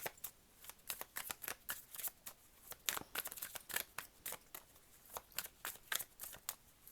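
Tarot cards being shuffled for a final draw: a steady run of crisp riffling and flicking bursts, close and fairly quiet, with no talk.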